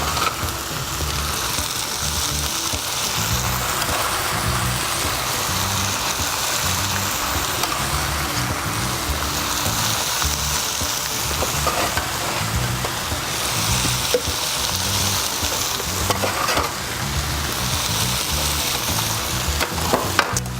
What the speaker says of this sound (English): 6 minutes and let it cook, and then it'll be ready to go. Our onions are semi-caramelized.